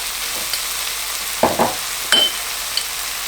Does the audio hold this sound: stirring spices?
yes